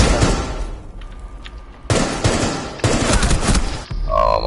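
Several loud bursts of rapid automatic gunfire in a console shooter game, close and punchy, separated by short pauses, with no talking over them.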